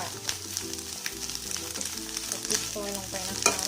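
Sliced chili sizzles and crackles in hot oil in a pan while it is stirred, with steady frying hiss and irregular scraping clatter, fairly soft and continuous.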